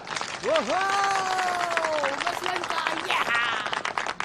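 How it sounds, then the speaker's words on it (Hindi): A party crowd claps steadily in welcome of the chief guest, a dense patter of hands running beneath a voice that rises and holds over it. "तालियों से स्वागत करते हैं आज की पार्टी की चीफ गेस्ट मिस लिन का"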